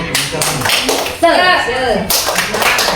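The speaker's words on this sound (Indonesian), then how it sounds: "Tepuk semangat dulu deh, tepuk semangat." Bursts of rhythmic group clapping from an audience doing a spirit clap, loud and close, alternating with voices chanting and calling out between the claps.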